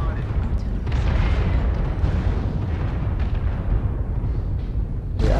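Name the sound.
artillery strike explosions in MechWarrior Online video game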